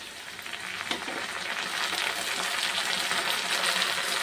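Potatoes and onion shoots sizzle in hot oil as green chili paste goes in, a dense frying hiss that swells and stays loud and steady, close by, with a brief stir near the start.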